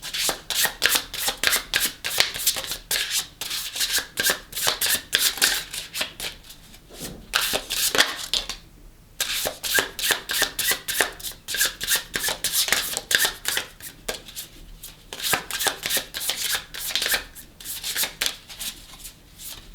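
Tarot cards shuffled by hand late at night, a steady run of quick papery riffles and rubs with one short pause partway through, close and fairly loud with no talking.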